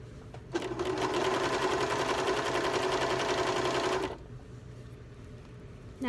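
A cover stitch sewing machine hemming pants runs in one steady, fast whirring burst for about three and a half seconds, close and clear, then stops, leaving quiet room tone.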